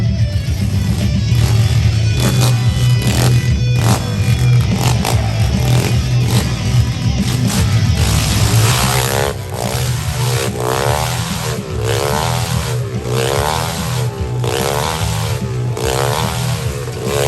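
A motorcycle engine revs in a stunt show at a state fair, loud and continuous, with rhythmic rising and falling surges as the rider loops around, echoing within an enclosure.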